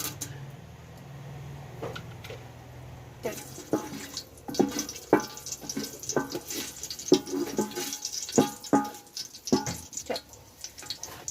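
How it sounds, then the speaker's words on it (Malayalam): Water splashes into a cooking pot holding hot oil with cinnamon, cardamom and cloves for ghee rice, giving a steady wet pour broken by sharp clatters and splashes, close and fairly loud. "ഇനി നമുക്ക് വെള്ളം ഒഴിച്ചു കൊടുക്കാം."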